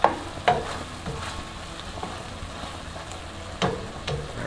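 Shrimp in tomato sauce frying in a pan with a soft continuous sizzle, punctuated by a few sharp scrapes and clicks of a utensil stirring the mixture.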